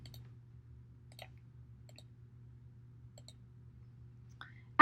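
A handful of soft, sparse mouse clicks land about a second apart over a low steady hum while an ArcGIS web map is used, ending in a brief louder sound.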